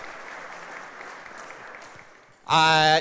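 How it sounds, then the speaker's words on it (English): Luncheon guests applaud in a soft, scattered patter for a while, cut off by a sudden loud tonal burst over the last half second. "let's give a round of applause and thanks to the Texas Sports Hall of Fame"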